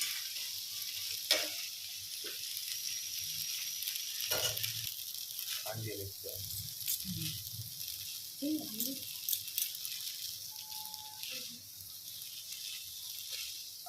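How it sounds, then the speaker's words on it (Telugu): Boiled noodles sizzle faintly in a hot pan as they are tossed and mixed, giving soft scraping and clinking strokes over a low frying hiss, with a voice talking intermittently. "ఇలా ఈ విధంగా మంచిగా మిక్స్ చేసుకోవాలి."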